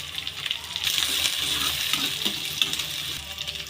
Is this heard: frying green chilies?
yes